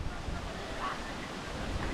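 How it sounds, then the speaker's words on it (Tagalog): Steady, broadband roar of strong wind buffeting the microphone, continuous and unbroken throughout with no voices. "Ang lakas ng hangin"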